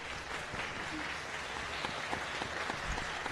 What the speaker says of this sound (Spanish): Por favor, un aplauso para nuestros ponentes.